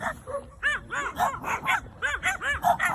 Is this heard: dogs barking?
yes